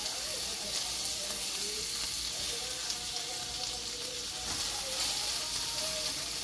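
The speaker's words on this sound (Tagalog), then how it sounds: "Tapos igisa natin yung sibuyas." Onions frying in a pan give a steady, close sizzle and hiss throughout, with faint stirring underneath and no talking.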